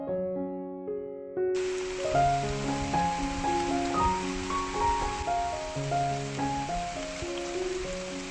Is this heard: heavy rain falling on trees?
yes